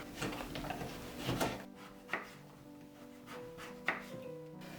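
Knife cutting the hard rind off a pumpkin, a few separate dull thunks and scraping cuts, close and fairly quiet, spaced irregularly.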